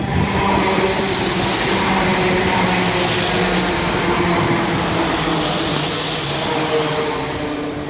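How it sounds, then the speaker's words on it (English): A West Midlands Railway Class 172 diesel unit of three carriages rumbles loudly and steadily at Birmingham Moor Street station, with a broad continuous engine drone and no speech. "1521 West Midlands Railway service from Stratford-on-Avon to Kidderminster. There he is."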